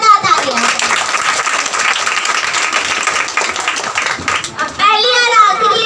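At a school prize distribution, a gold medal winner gets vigorous clapping from an audience that includes children, with chatter rising as the applause thins near the end.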